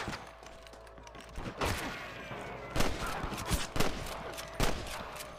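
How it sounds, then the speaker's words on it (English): Scattered gunshots in the video game Red Dead Redemption crack out at irregular intervals, some distant and some closer, over a busy background rumble. "I can hear more gunshots."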